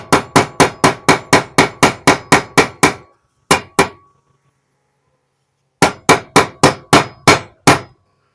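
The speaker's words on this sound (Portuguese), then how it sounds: "Aqui com punção, eu vou marcar o local onde eu vou fazer o furo" A hammer strikes a center punch to mark a drilling spot on a bus servo rod pin, giving sharp metallic taps: a quick run of about a dozen evenly spaced blows, two lone hits, then another short burst, loud and close.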